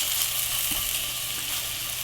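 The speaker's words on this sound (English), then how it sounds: "You can actually see the salmon starting to cook almost all the way through" Blackened salmon sizzles steadily in a frying pan, a loud, continuous hiss of hot oil close by with no talking.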